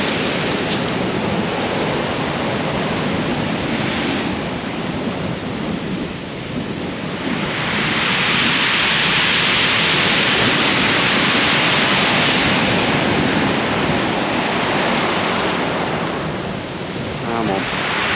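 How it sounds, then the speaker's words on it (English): Strong wind buffeting an exposed shore beach at Hordle Cliffs in Dorset, a loud continuous roar mixed with surf that swells louder midway and stays dense throughout. "that wind's picked up now"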